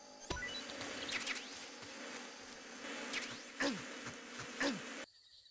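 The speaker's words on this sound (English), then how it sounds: "Attacks by hornets and bees can be driven away with a knife." Bees buzzing in the video game Metal Gear Solid 3, a close continuous insect drone with several loud passes swooping by the listener, ending abruptly.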